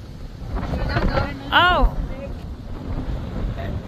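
Strong wind on a beach at Iba, Zambales, rumbles and buffets the microphone in gusts, with a brief exclamation from a person partway through.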